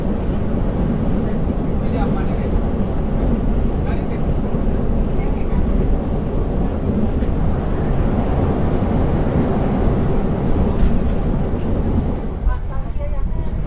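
Serayu passenger train rolling across the long Serayu river railway bridge at Maos, a steady loud rumble and rattle throughout with wind buffeting, continuous for the whole span.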